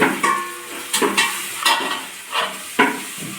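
Food being stirred in a hot pan after a pinch of sugar goes in, with a soft sizzle under repeated scraping strokes of a spoon against the metal, about six close, even passes.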